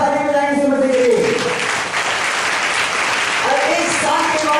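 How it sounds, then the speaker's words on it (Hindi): A church congregation claps loudly at a Hindi-language prayer service, dense sustained applause throughout, with a voice speaking over the start and again near the end. "जोरदार ताली बजाएं यीशु मसीह के लिए।"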